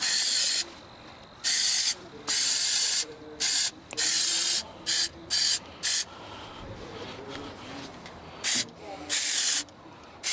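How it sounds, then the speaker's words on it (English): Aerosol solvent can spraying into a vehicle's relay and fuse housing, a series of sharp hissing bursts of varying length, some short and some over a second, with quiet gaps between them, close to the microphone. "I'm gonna spray this solvent here."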